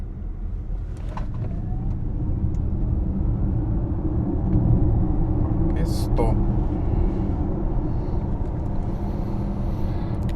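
A 2019 Audi e-Tron 55 Quattro electric car's low road rumble and tire noise build and hold steady as it speeds up, fairly loud inside the cabin, with a brief voice.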